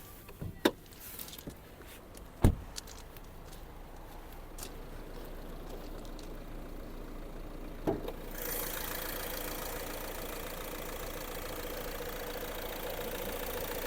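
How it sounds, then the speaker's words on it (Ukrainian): A 2018 Renault Megane GT-Line engine idles steadily with a low continuous hum, a few sharp clicks and knocks early on, then a brighter, louder rush of engine noise. "Двигун все працює"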